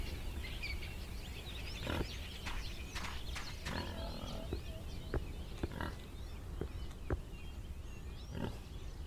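A pig in the Under a New Sun video game grunts and squeals in short, irregular snorts scattered over a soft outdoor ambience, moderately close but fairly quiet.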